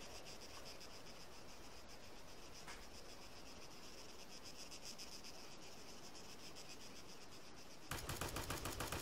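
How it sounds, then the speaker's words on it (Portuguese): A steady chirring, insect-like background hums along in Arma 3 Battle Royale, then near the end a loud burst of rapid gunfire from a nearby town cuts in. "Tiro aqui perto, provavelmente nessa cidade."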